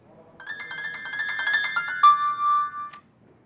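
A mobile phone ringtone plays a bright electronic melody that rises over a few seconds, ending in a few sustained tones before stopping, in a quiet room with no one speaking.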